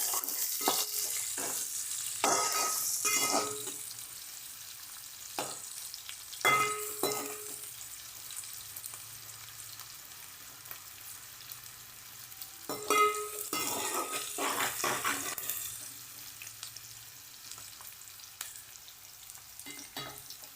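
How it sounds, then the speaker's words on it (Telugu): Sliced onions fry in a pan for veg noodles, a soft steady sizzle broken by bursts of louder scraping and stirring, close and alone without speech. "ఇప్పుడు ఉల్లిపాయలు వేసేసుకుందామండి. ఉల్లిపాయలు బ్రౌనిష్ కలర్లో వచ్చేయాలి."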